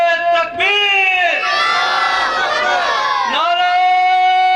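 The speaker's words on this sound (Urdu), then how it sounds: "تمام بھائیوں سے اپیل کی جاتی ہے کہ نعرے کا جواب بھرپور ہمت اور طاقت سے دیجئے گا" A large crowd at a religious gathering roars back in unison in answer to a Takbeer slogan, loud sustained shouted voices with a brief dip and renewed surge, close and filling the space.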